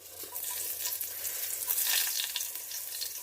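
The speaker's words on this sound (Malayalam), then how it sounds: "സവാള ഇങ്ങനെ ഇട്ട് കൊടുക്കുന്നു" Chopped onions hit a hot pan for a crab dish and sizzle steadily, a dense, close hiss that swells slightly midway and continues without any voices.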